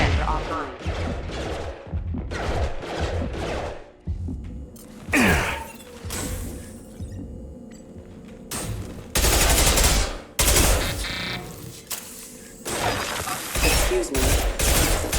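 Heavy gunfire from the video game Mass Effect 2 comes in loud, dense bursts of rapid shots and blasts, broken by short lulls, with voices in the game audio between volleys.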